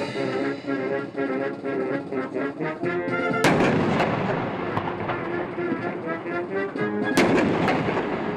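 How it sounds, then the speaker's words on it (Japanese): Artillery signal guns fire at a Japan Ground Self-Defense Force 10th Division anniversary event at Moriyama garrison in Nagoya. Two heavy booms cut through band music playing outdoors, each followed by a long rolling echo. "曲に合わせて通報射撃を実施します。 大きな音がしますのでご注意ください。"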